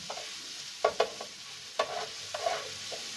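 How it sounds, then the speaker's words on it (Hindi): A spice mixture for Lahori street-food-style anda tikki is stirred and mixed, with a few sharp spoon clinks and scrapes standing out over a soft, steady sizzle close by. "और इसको अच्छे तरीके से मिक्स करेंगे"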